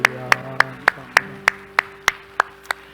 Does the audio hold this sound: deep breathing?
no